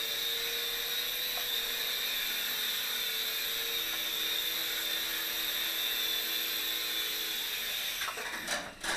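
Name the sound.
Silverlit Sky Dragon toy helicopter flying in to land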